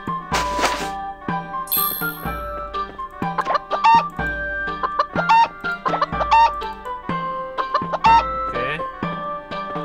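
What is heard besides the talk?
chickens clucking in the video game Harvest Moon: Light of Hope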